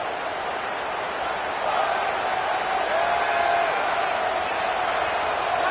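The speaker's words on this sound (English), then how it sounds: "The Buckeye crowd alive on 3rd down." Ohio State Buckeye home crowd cheering at a college football game against Minnesota on third down, a steady broad roar that swells slightly midway, with band or whistle tones faintly riding on top.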